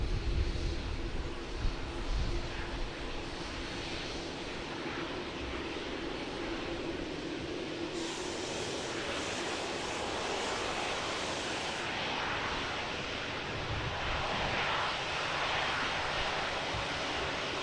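An Etihad airliner's jet engines roar at Manchester Airport, a loud, steady, broadband rumble that holds for the whole stretch without any talk.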